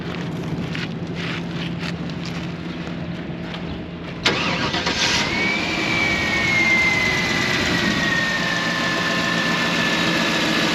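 A car engine cranks briefly and catches with a sudden roar, then settles into a steady idle with a faint rising whine over the rumble, no voices.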